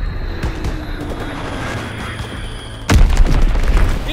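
Heavy enemy artillery blasts in Call of Duty WWII, a loud sudden boom near the three-second mark bursting over a steady rumbling battlefield din, with no talk.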